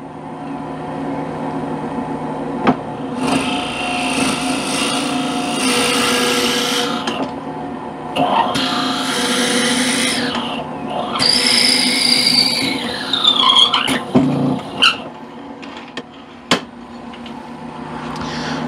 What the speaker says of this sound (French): Ma pièce de bois tourne, je vais pouvoir rapprocher mon forêt pour percer directement comme ça et traverser.